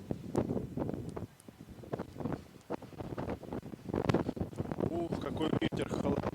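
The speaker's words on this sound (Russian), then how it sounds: "какой ветер холоднющий" Cold wind blowing in off the sea on a stormy winter evening at the Yalta waterfront, with gusty buffeting noise hitting the microphone throughout and people talking over it.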